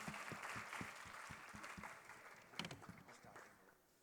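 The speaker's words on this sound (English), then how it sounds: "Let's welcome Robin with a huge round of applause" Audience at a school sustainability summit clapping to welcome a student speaker, moderately faint and dense, with individual claps standing out and tapering off toward the end.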